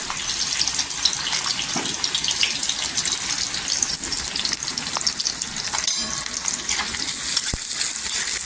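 Onions fry in oil for Maharashtrian thecha, giving a dense, continuous sizzle with occasional soft stirring scrapes, close and steady throughout.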